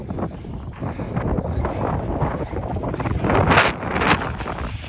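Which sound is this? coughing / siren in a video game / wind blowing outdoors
wind blowing outdoors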